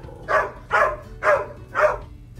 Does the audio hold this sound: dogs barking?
yes